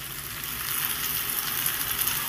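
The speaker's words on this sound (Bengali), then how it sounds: "এবার সুন্দর করে কষিয়ে নেব" Duck egg curry with papaya sizzles and fries steadily as it is sautéed in a pan, a continuous close crackling hiss that grows a little louder partway through, with no voices.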